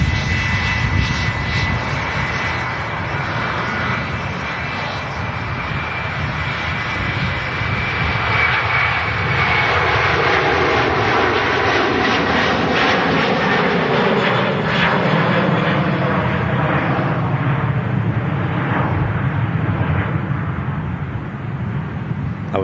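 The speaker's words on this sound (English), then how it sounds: "First wide-body departure of the show. Aer Lingus A330 300 series." An Aer Lingus Airbus A330-300 wide-body jet departs an airport, its engines giving a loud, steady roar that rises and sweeps past before slowly fading, with faint voices underneath.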